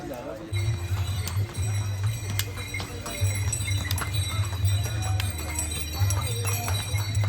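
Horse hooves clip-clop along the stony Yamunotri Dham pilgrimage trek path, a steady, fairly close stepping rhythm over a low rumble, with voices talking in the background.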